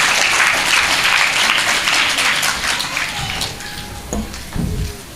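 A school audience gives loud applause for the teachers, a close burst of dense clapping that gradually fades, with a few distinct thumps near the end.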